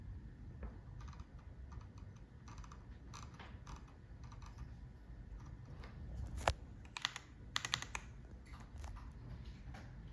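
Someone types on a computer keyboard while writing code, a steady patter of quiet clicking keystrokes, close and soft, with a few sharper key taps near the end and no voices.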